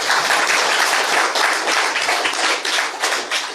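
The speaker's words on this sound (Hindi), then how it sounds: "चलो पहले ताली बजा दीजिए" Sustained applause from an audience at a spiritual talk, dense and even with steady clapping filling the room from start to finish, fairly loud and without any voices over it.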